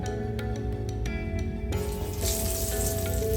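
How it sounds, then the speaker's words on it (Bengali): Boiled potatoes frying in a pan seasoned with turmeric and salt, giving a steady close sizzle with faint crackles throughout, no talking. "প্রথমেই আমি সেদ্ধ করে রাখা আলুগুলোকে একটু ভেজে নিচ্ছি"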